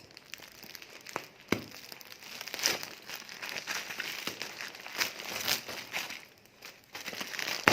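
Plastic package of yarn being torn open and handled, with continuous close crinkling and rustling plus a few sharper crackles, no talk.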